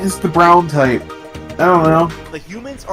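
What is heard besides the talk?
None of the usual background noises is heard.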